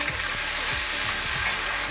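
Ginger paste hits hot oil tempered with cloves, cinnamon and cardamom while cooking a veg parwal curry, giving a steady close sizzle with soft rhythmic stirring scrapes and no voices.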